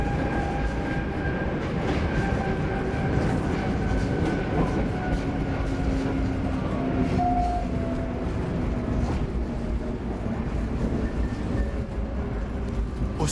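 A 1980s Paris Metro line 7bis train rolls along with a low rumble and rhythmic rattling, faint wheel squeals rising as it curves; no talking.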